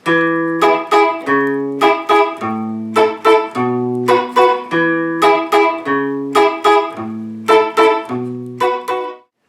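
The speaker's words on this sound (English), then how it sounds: "The basic strum pattern sounds like this." A guitar plays the basic strum pattern for a song: a low bass note followed by quick upstrokes, repeated in a steady, close, bright rhythm for about nine seconds, then stopping.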